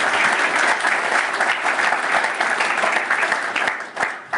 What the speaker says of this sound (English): there is an applause